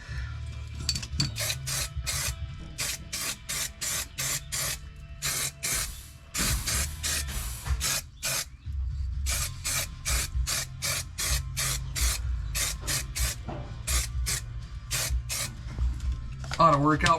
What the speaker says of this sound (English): Hit this with another little shot of primer here